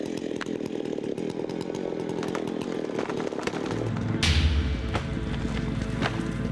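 A chainsaw buzzes steadily, then revs harder and bites into a tree during logging with a louder, rougher roar; loud and close, no talking.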